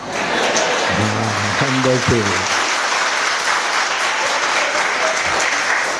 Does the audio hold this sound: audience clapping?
yes